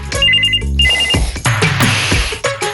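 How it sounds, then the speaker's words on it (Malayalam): A telephone ringtone warbles in loud, repeated electronic bursts close by, then gives way to busy, dense background sound during a Malayalam television program. "പോട്ടാ, ഫോൺ എടുക്ക്, ചെല്ല്."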